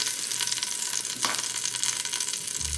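Seared meat sizzles in a frying pan, a continuous bright crackle and hiss holding steady throughout, close and alone with no talk.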